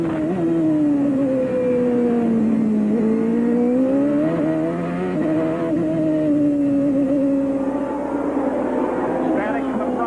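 IndyCar race cars at the 1995 Miami Grand Prix, on a slippery street-circuit track by a chain-link fence, run as a continuous loud engine drone that rises and falls in pitch as cars pass close by.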